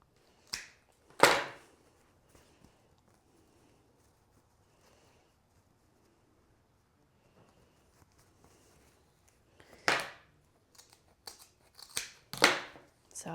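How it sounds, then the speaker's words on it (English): Scissors cut through mesh ribbon for a summer wreath, heard as a few sharp, close snips scattered among quiet pauses, with a cluster of quick cuts near the end. "I usually just line them up the best I can, fold them in half, and cut upwards."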